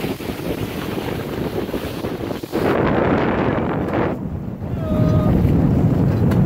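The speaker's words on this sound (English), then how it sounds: "just cruising along with the Genoa, simply sailing on the Catalina 36 Horizen" Wind rushing over the microphone and water washing past the hull of a Catalina 36 sailboat sailing under genoa on Bellingham Bay in February, steady and loud throughout, with a faint whistle-like tone near the end.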